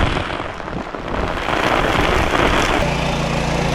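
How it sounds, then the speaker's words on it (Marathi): Heavy rain pouring steadily in a broad dense hiss, loud and continuous outdoors, with a low hum entering near the end. "बघा कसे छत्रे घेऊन रवलेत बघा पाऊस जोरदार"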